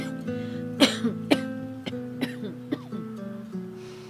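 An elderly woman, a grandmother, coughs repeatedly in a series of sharp, close bursts with short pauses between them, the later coughs weaker and more strained.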